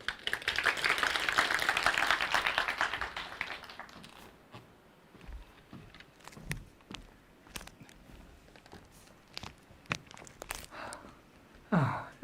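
An audience at an indoor Korean project presentation event claps to welcome a speaker, a dense burst of applause for the first few seconds that fades into scattered claps and faint room noise.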